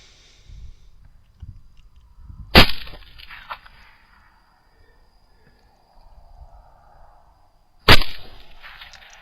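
Two loud, sharp rifle shots fired at a hog in open country, about five seconds apart, each followed by a brief fading echo over a quiet background with faint rustling.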